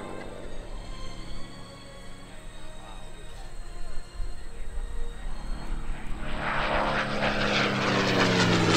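A P-51 Mustang warbird flies at the 2013 Lehigh Valley Airshow, its piston engine droning faintly at a distance before swelling into a loud, close propeller roar toward the end.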